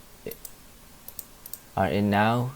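A few light mouse clicks while selecting Solana in the Phantom Wallet crypto app, sparse and close, followed by a person talking.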